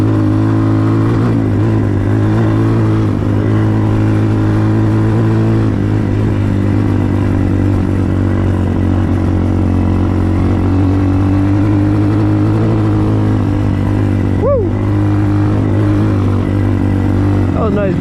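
Hawk 250 enduro motorcycle engine driven hard through sand, a loud, steady mid-pitched drone with shifting revs throughout, close up and continuous, with a brief sharp rise near the end.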